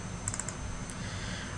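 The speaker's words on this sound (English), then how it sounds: "double click on the outline" Mouse double-click on a computer while working with the Selection tool in Flash: a few quick, light clicks in a short burst, close and fairly faint over a low steady hum.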